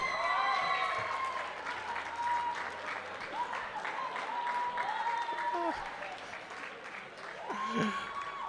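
An audience at a university union election results event applauds, a steady dense clapping that carries throughout, with cheers and whistles rising above it and a voice speaking over the crowd.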